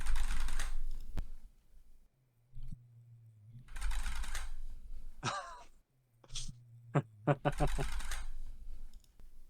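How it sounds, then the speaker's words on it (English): Computer keyboard typing in slightly distorted bursts, as if passed through noise suppression, with short clusters of clacks separated by pauses and a faint low tone in the gaps. "The keyboard noise, it's a little bit distorted though."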